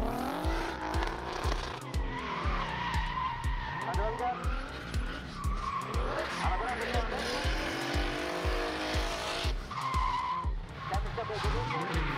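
A Lexus and a BMW race car compete head to head, tires squealing and skidding continuously with engines roaring loudly up close, and commentary is heard over the action.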